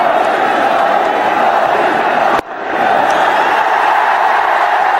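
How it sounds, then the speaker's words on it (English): A stadium crowd at a one-day cricket international in Jaipur roars and cheers for Virat Kohli's half-century, a dense, steady wall of noise broken by one brief dip midway. "Big cheer here."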